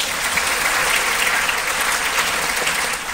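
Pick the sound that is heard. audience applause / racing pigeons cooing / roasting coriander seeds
audience applause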